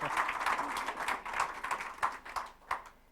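Scattered hand clapping from a small audience at an evening presentation, uneven and fairly faint, tapering off into a few separate claps.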